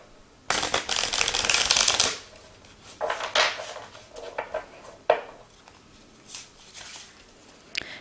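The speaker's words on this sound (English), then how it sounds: "let's give this deck a shuffle" A tarot deck is shuffled close by: one long dense riffle, followed by several shorter, softer shuffling bursts and taps.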